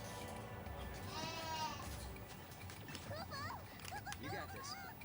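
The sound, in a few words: sheep bleating in video game Final Fantasy XIII-2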